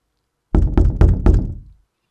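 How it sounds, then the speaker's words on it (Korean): Someone pounds on the door of a house with four heavy, evenly spaced knocks, loud and close, each with a short resonant thud that fades quickly into silence. "문을 두드리는 소리가 울려 퍼진다."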